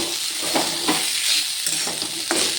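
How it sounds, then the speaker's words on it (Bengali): Steady crackling sizzle of potatoes frying in a pan, with soft stirring scrapes now and then, close up and continuous. "এই দেখো আলুটা আমার ভাজা প্রায় হয়েই গেছে।"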